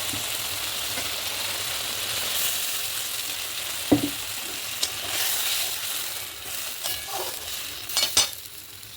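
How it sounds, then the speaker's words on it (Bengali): Mustard paste with a splash of water sizzling and bubbling over fried elephant foot yam in a pan, a steady close frying hiss broken by spoon scrapes and a few sharp clinks. "এবার আমি এই সর্ষে বাটাটা দিয়ে দেবো।"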